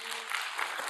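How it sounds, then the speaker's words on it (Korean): A church congregation breaks into a short burst of applause, dense and steady clapping from many hands that fills the room for about a second. "우리 하나님께 영광의 박수 한번 합니다."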